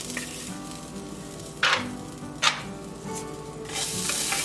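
Peanuts, sesame seeds and grated coconut dry-roasting in a kadai for a biryani salan: a close, steady soft sizzle and rustle, broken by two sharper scraping stirs, with no voices.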